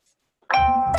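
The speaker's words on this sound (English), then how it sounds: "sorry, that's my alarm." After a brief silence, an electronic alarm tone starts abruptly and rings loudly with a buzzy, chiming quality.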